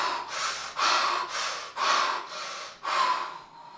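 A woman in labour breathes heavily in about seven loud, rhythmic breaths, each a long, breathy huff, close and alone.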